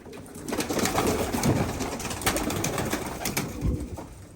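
Pigeons cooing close by in a loft, soft throaty rolling calls repeating over a steady background of other birds and rustling.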